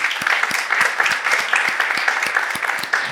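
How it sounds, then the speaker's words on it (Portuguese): A church congregation breaks into applause during a worship service, a dense wash of clapping with a few sharp, distinct claps standing out, fairly loud and continuous. "Aplauda Jesus pela vida desses homens e mulheres de Deus."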